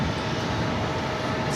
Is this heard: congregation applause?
no